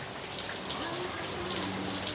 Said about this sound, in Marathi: पाऊस पडते पाऊस पडते